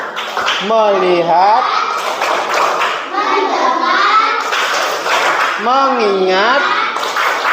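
A classroom 'tepuk fokus' routine at an Indonesian madrasah: rhythmic hand claps and thumps under loud, chanted voices, with the group clapping in time through the whole stretch.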